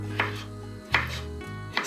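A blender chops ingredients for avocado mayonnaise, its motor whirring in a steady low hum broken by three sharp pulses as the blades catch, close and with no talk.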